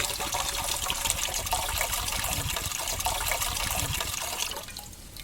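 Coconut water is poured into a container in a steady, close gushing splash that runs continuously, then falls off sharply to a quieter trickle near the end.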